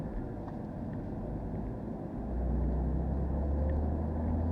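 Engine of a BMW M2 heard from inside the car, a steady low rumble that swells louder and deeper partway through as the driver gets back on the throttle, with no voices.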